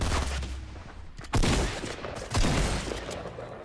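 Gunfire in the video game Fortnite, a rapid volley of shots with two louder bursts about a second apart, punchy and close, without talk.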